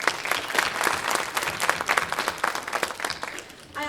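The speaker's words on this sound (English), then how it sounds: "So let's give them a round of applause as well." Audience applause at a high school fine and performing arts holiday concert, with lively and fairly loud clapping that holds steady before a voice begins at the very end.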